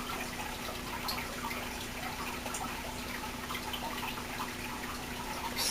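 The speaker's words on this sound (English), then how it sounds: "I'm sorry if my fish tank is loud because it finally got fixed." A waterfall filter on a home fish tank runs steadily, a soft continuous trickle and splash of water with occasional faint drips, quiet and unchanging, with a faint electrical hum beneath.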